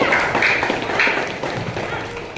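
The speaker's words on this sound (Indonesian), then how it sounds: "Tepuk tangan untuk Margaret, Rio, dan Dionita." A classroom of pupils claps for three classmates, a short burst of brisk applause that fades over a couple of seconds, with a voice over it.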